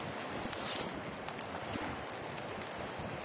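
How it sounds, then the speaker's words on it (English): Strong gusting wind roars across the microphone aboard a fishing boat, a dense, loud, continuous rush with no voices. "it's still windy as all get out here"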